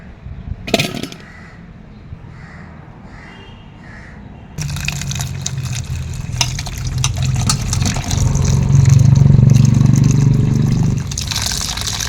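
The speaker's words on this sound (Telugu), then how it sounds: "ముందుగా అయితే టమాటాలు ఇలా వాటర్లో వేసుకొని కడుక్కున్నాను" A sharp clatter comes first, then water sloshes and swirls steadily as tomatoes are washed in it, growing fuller and louder toward the end before easing off.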